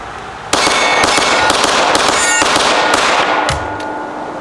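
Pistol fitted with a Gflex trigger fires a rapid burst of sharp, loud shots close by, several in quick succession over about three seconds, then the firing stops and a quieter background remains.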